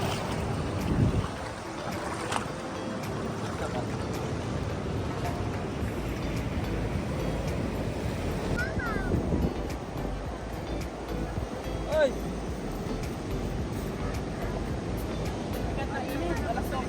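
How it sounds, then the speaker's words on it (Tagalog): Strong ocean waves wash and roar steadily at Tibu tidal pool in Casiguran, Aurora, a continuous surf rumble mixed with wind buffeting the microphone. "Ganyan kalakas na alon."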